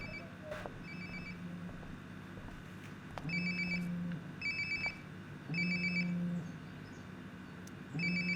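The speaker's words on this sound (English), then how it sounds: "Sounds like my phone is definitely nearby." A cell phone rings nearby in the video game Life is Strange, its electronic ringtone repeating in regular bursts over a quiet indoor ambience.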